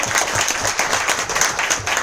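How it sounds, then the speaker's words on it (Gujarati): An audience gives loud, sustained applause for Bharat sir at a gathering about a family business success story, dense clapping filling the whole stretch with a steady, busy rhythm. "એક વાર જોરદાર તાળીઓ જાય ભરત સર માટે"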